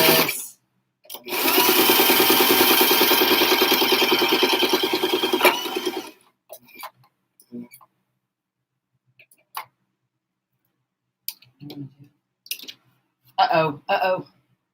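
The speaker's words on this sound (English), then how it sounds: "I'm going to stitch around all sides." A home sewing machine stitches around a fabric mask in one steady, loud run of about five seconds, then stops, leaving scattered clicks and brief speech.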